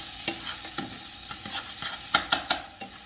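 Seafood gumbo ingredients sautéed in a pan, a soft steady sizzle broken by scattered scraping stirs, with a few sharper clanks near the end, close and moderately quiet, no voices.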